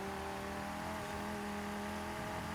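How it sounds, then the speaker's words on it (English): Steady engine drone from a car in the racing video game Forza Horizon, a sustained tonal hum with a faint higher whine, holding fairly constant with no voices over it. "The sound of this car in this game sounds so bad."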